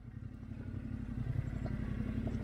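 A Yamaha Tenere 700 motorcycle climbing a steep, loose, scrabbly back-road hill, its engine a steady, close, low throbbing drone with faint clatter from gravel and rocks underneath.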